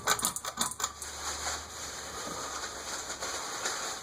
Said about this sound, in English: Hold on for a second, Andy, with the rustling sound there.